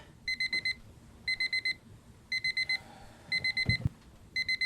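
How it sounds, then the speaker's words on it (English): An alarm clock rings in a repeating pattern of rapid four-beep bursts, each burst about a second apart, loud and clear against a quiet room, with a brief thump partway through. "The alarm is so much louder than all the dialogue."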